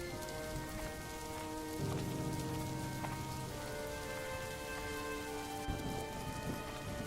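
A night rainstorm pours down steadily with no talking, a dense, even hiss of rain hitting surfaces from start to finish.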